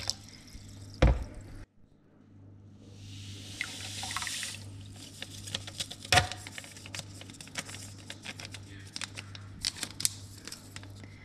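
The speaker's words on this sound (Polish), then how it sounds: "Mam już wody, jeszcze troszkę sobie doleję gorącej." Hot water pours in a soft, hissing stream into a washing tub for a couple of seconds, surrounded by drips, taps and small handling clatter.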